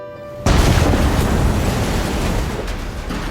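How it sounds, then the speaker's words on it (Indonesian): A landmine blast used as a sound effect: a sudden loud boom that cuts in sharply and then rolls on as a long, heavy rumble with no voices. "jebakan ranjau tersebut berhasil meledakkan salah satu dari mereka"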